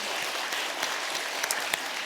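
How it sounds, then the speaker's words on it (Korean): Church congregation clapping to welcome a newcomer during an Easter service, a steady mass of applause with a few sharper individual claps standing out near the end. "우리 힘차게 박수로 환영하도록 하겠습니다"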